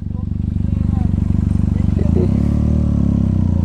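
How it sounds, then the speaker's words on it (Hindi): A Benelli 300 motorcycle with a loud aftermarket exhaust pulls a wheelie on a dirt road in a forest near Nainital, its engine throbbing loud and close and rising in pitch as it revs, with a rider talking over it. "वीली मारा कच्चे रोड पे"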